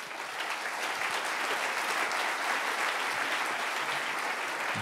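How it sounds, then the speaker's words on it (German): Steady audience applause at a German political speech, a dense continuous wash of clapping at even loudness for several seconds with no voices over it. "wenn es Ihnen hilft, klatschen Sie"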